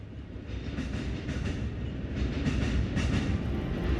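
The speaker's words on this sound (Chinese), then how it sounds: "列车缓缓驶出检修车间" A Shaoshan 3B locomotive rolls slowly out of a maintenance workshop, with a rumbling, continuous run of repeated wheel clacks heard close and steady.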